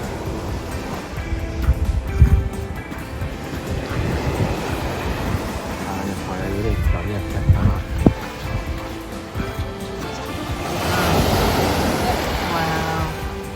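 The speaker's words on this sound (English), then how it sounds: "Okay, here is the beach." Ocean surf rolls onto a beach near Bar Harbor, Maine, a broad steady wash with wind buffeting the microphone, swelling louder toward the end while people talk intermittently nearby.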